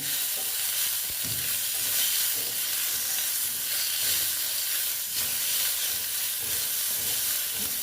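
Chopped tomatoes sizzle steadily in a pan with already-fried onions, a dense, continuous frying hiss with faint stirring scrapes throughout and no voices.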